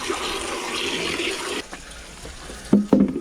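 Running water rinsing out parts of a macerator toilet, a steady rushing gush for about a second and a half, then quieter with a couple of short splashy bursts near the end.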